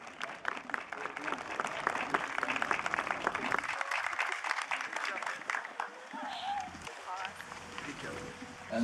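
A room of people claps for winners at a community volunteer awards breakfast. The dense, steady applause fades partway through, and a few voices are heard near the end.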